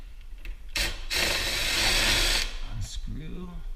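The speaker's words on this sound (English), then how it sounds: "Unscrew." A small power drill unscrews the screws from an entry door knob, a loud whirring burst of about a second and a half, then a short second burst, with a voice speaking briefly at the end.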